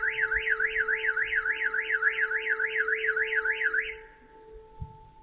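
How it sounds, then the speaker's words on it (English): Car alarm wailing in a fast, regular rising-and-falling siren pattern for about four seconds before it stops abruptly, leaving faint background noise. "Now the alarms go off."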